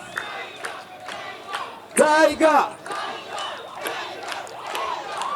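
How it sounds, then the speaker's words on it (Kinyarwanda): A large crowd roars and cheers at a music event in Rwanda, with a dense burst of shouting voices in the middle over steady crowd noise and scattered claps. "urabona ko amashyi menshi cyane"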